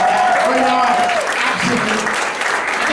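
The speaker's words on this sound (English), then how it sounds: "let's give a nice warm round of applause for summer" A comedy club audience at a live stand-up show gives a warm round of applause, dense clapping throughout with a voice speaking over it.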